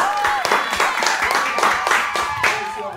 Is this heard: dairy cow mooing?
no